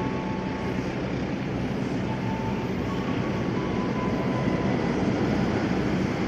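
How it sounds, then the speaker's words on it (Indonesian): A Bima passenger train runs straight through a station on track 3 without stopping, a steady loud rumble of wheels and carriages rolling past for several seconds. "Melintas langsung jalur 3 kereta api Bima dari stasiun Gambir tujuan akhir Semarang"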